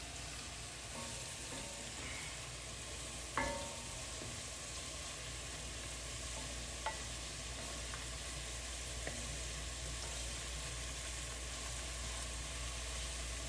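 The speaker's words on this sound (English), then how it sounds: "Then I'm going to add my chives and my thyme, along with my basil and parsley. I'm going to saute that for a little bit." Chives, thyme, basil and parsley sautéing in a pan give a steady, soft frying sizzle throughout, with a few faint clicks of stirring and no voices.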